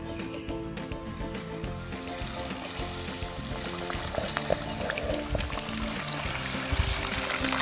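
Batter-dipped brinjal bajji dropped into hot oil, a soft bubbling fry that builds steadily under a faint background hum, fairly quiet and continuous.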